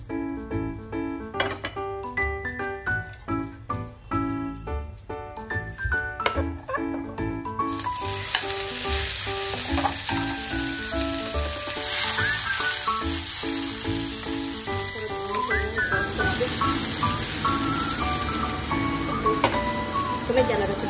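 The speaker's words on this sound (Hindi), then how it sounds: "सबसे पहले हम करेंगे पनीर फ्राई।" Paneer frying in a pan, with a loud, close, continuous sizzle that swells after some earlier kitchen clatter and plucked music, occasional stirring noises mixed in.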